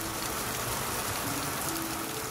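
Steady rain patters outside an off-grid mountain hut in the Slovakian wilderness, a dense, even hiss of drops on surfaces with no voices.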